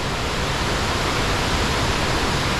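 Brush Creek Falls in West Virginia pours in a steady, loud, broadband rush of falling water, close and unbroken, with no voices over it.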